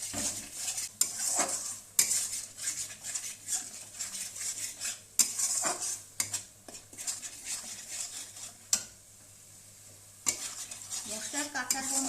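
Spices with turmeric and chili powder being stirred and sautéed in a pan for achar kalia, a spoon scraping and clinking against the metal in repeated sharp strokes over a soft background sizzle, with one brief quiet pause.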